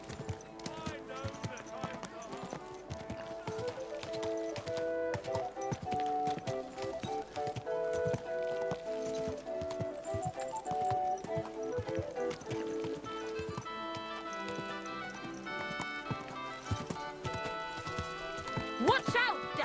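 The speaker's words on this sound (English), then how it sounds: "Easy, good horse." Horse hooves clip-clop at a steady gait with occasional neighing in the video game Kingdom Come Deliverance 2, layered over background game music and ambience.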